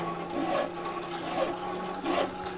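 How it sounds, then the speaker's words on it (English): Steel file rasping across a hardened steel hammer face in a blacksmith's shop, a steady scraping with three strokes about a second apart, fairly close and continuous, with no talk. "I'm judging hardness on a hammer face by how easily it'll cut with a file"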